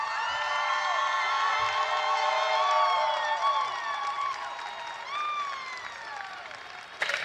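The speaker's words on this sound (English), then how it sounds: "Please join me in a round of applause" A large audience at a university Songfest event applauding and cheering, a sustained wash of clapping with whoops and high shouts layered on top, slightly distant.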